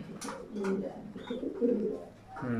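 Pigeon cooing from a handsome male BRPFC club bird, soft throaty coos repeating close by over a steady background murmur.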